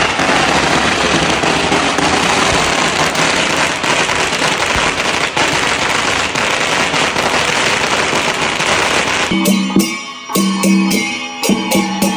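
Red firecrackers and fireworks at a traditional Chinese wedding, a loud, dense, continuous crackle of rapid bangs that breaks into scattered pops and fades near the end.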